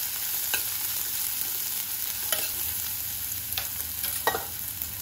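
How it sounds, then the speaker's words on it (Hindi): Chopped onions frying in a pan for a creamy veg pasta, with a steady close sizzle broken by a few sharp stirring scrapes. "प्याज को हम भून लेंगे"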